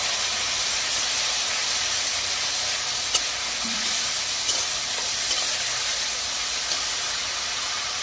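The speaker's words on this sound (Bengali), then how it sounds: "পেঁয়াজ বাটা, পেঁয়াজের কাঁচা গন্ধটা চলে যাওয়া পর্যন্ত একটু ভাজতে হবে" Onion paste fries in a pan with a dense, loud, hissing sizzle that holds steady throughout, marked by a few brief crackles and taps.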